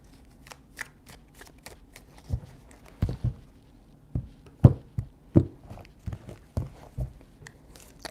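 Tarot cards are shuffled by hand in a string of soft riffles and taps with quiet pauses between them, close and fairly faint.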